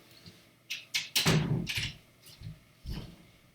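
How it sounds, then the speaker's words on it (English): A door is pushed shut indoors, a few soft knocks and bumps followed by a louder thud, then a later muffled bump, moderately close with no talking. "I'm going to go close the door"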